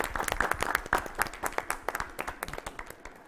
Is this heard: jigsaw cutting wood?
no